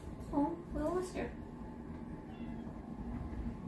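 Small kittens meow in a few short, rising calls close by early on, then fall quiet over a low indoor hum.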